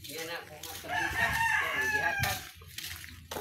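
Hybrid farm rooster crowing once, close and loud, with a rising then sustained call lasting about two seconds, followed by softer clucking.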